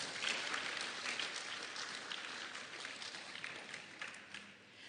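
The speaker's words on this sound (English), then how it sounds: "Let's give her another round of applause." An audience applauds at a book launch, a sustained wash of clapping from many hands that is loudest at first and gradually thins out toward the end, with no talking.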